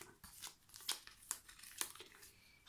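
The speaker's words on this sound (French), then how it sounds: "On va les mélanger face cachée." Board game prize cards being shuffled face down on a table, giving a run of papery crinkling and rustling with several sharp crisp snaps, close and fairly quiet with no voices.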